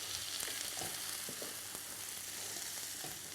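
Onions and garlic fry in a pan, a soft, steady sizzle with faint crackles and occasional stirring taps, close and quiet with no voices.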